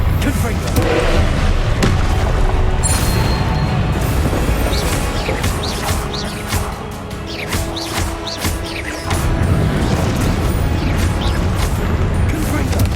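Repeated Confringo fire-blast spells explode in the video game Hogwarts Legacy, a run of sharp crashing bursts that stand out over steady, busy game noise.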